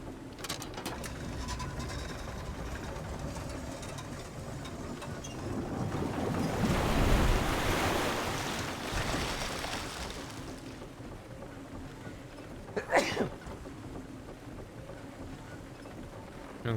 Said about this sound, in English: And there's still water coming in here.